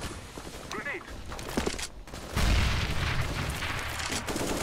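A grenade explodes in Counter-Strike: Global Offensive, a sudden loud boom partway through followed by a lingering rumble, with a player talking over the game sounds.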